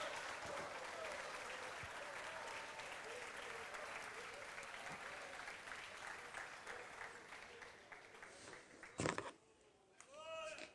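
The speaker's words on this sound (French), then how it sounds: "On applaudit pour le Seigneur." A church congregation applauds for the Lord in a sustained, fairly faint wash of clapping that runs through most of the stretch, thinning near the end with a few louder bumps.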